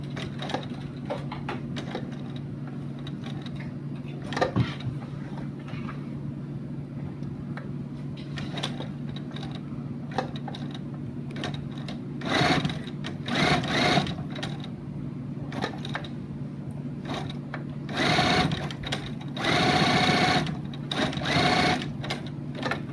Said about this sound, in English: next you want to do another basting stitch at 1/4 seam allowance